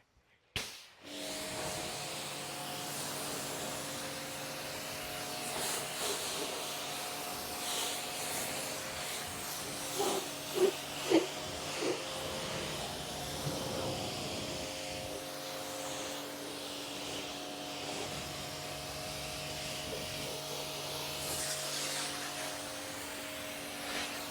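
Pressure washer rinsing snow foam off a car, a steady hissing spray with a droning motor tone underneath, continuous throughout with a few brief knocks midway.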